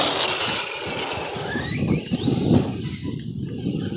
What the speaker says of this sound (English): So that's me braking